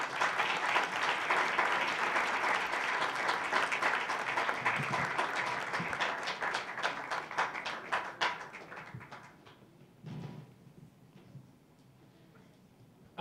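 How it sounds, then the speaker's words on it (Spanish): Warm applause from a full audience at an Ebola panel event, a dense steady patter of clapping that thins out and fades after about nine seconds, leaving scattered claps and low murmuring. "acompañados del aplauso afectuoso de todo el público"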